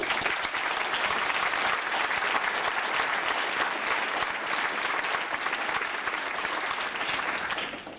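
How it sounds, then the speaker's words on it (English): Sustained audience applause for road race volunteers at a 1991 Cincinnati Heart Mini Marathon clinic, a dense, steady clapping that fills the room and continues unbroken, tapering slightly at the very end. "all of us should give the volunteers in every road race, especially this one, a big round of applause"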